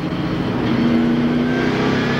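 2001 NASCAR Winston Cup race car engines at Texas Motor Speedway during the Harrah's 500 hold a steady, loud, continuous roar with a rising engine tone, no voices over it.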